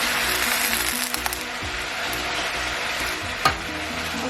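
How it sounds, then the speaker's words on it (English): Broccoli stirred in a stir-fry pan alongside shrimp teriyaki vegetables, a steady hiss of frying with occasional scrapes and one sharper knock of the utensil, close and without talk. "The broccoli, I'm just gonna stir."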